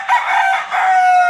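A fighting rooster from a breeder's sale crows loudly and close, one sustained call with a brief dip in the middle.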